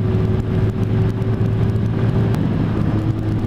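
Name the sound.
Lexmoto ZSX motorcycle engine while riding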